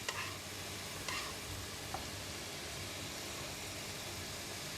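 Leek and eggs stir-frying in a pan give a steady, fairly quiet sizzle, with a few faint scrapes of stirring over the frying hiss.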